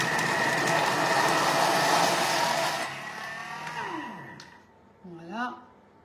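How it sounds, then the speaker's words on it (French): A blender whirs loudly at speed 5-6, mixing beetroot waffle batter. It runs steadily for about three seconds, then winds down with a falling whine and a few faint clunks. "Je vais juste mixer sur vitesse 5-6 là."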